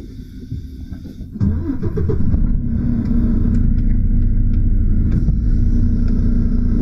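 A semi-truck tractor engine rumbles low, then swells into a loud, steady drone as the rig begins pulling out from under a trailer, with faint clanks over the engine.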